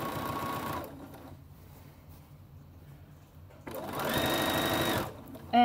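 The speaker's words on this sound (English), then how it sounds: "just guiding that middle groove of the presser foot right along the seam." A home sewing machine stitches along a seam of a pair of shorts, presser foot guiding the fabric, running in two bursts of rapid mechanical whirring separated by a quiet pause, close and clear.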